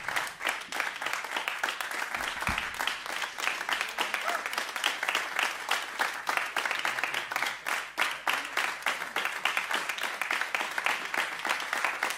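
Concert audience at a jazz trio performance gives a long round of applause, rhythmic, fairly even clapping from many hands that continues steadily throughout, heard at moderate distance.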